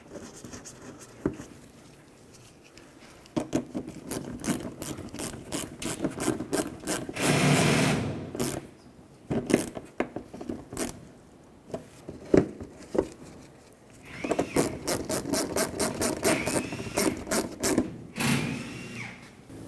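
Sharp metallic clicks from a ratchet snugging bolts on a 2012-2019 Fiat 500 headlight assembly, coming in rapid close bursts with short pauses between runs.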